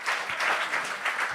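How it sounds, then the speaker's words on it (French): Audience applause at a Quebec comedy show, a dense burst of many hands clapping, loud and close, filling the whole short moment without any voices. "Un autre applaudissement, s'il vous plaît."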